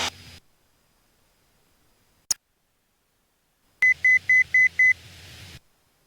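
A series of five short, evenly spaced electronic aircraft cockpit warning beeps sounds after a moment of near silence, preceded by a brief click, during a traffic pattern flight.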